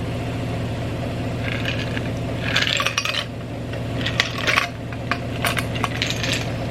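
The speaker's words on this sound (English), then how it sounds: "We'll add some ice." Ice cubes clink and rattle into a glass while an iced peppermint mocha is made at home, several brief bright bursts over a steady low hum.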